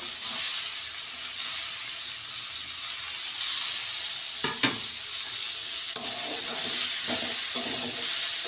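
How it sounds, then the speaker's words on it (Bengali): Cabbage sizzles steadily in a hot pot while being lightly fried for a vegetarian khichuri, a constant hiss broken by a few scraping stirs and light clinks near the end. "এটাও হালকা করে ভেজে নেব।"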